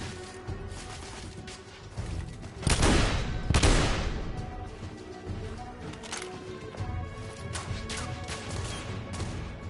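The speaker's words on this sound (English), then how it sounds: "I'm under heavy fire." Heavy gunfire in The Order 1886, with bursts of shots and crashing impacts peaking loudly in the middle, then lighter scattered fire continuing behind a busy game soundscape.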